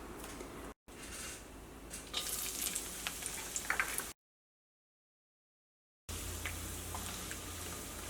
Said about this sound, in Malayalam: അപ്പോൾ നമുക്ക് ഇതും കൂടിയിട്ട് നമുക്കൊന്ന് വറുത്തെടുക്കാം.